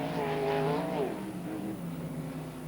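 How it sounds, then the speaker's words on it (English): Sprintcars roll past on the Archerfield Speedway during a pole shuffle, a fairly faint engine drone with a rising and falling whine that fades as they move away. "Car rumbling through turns 3 and 4."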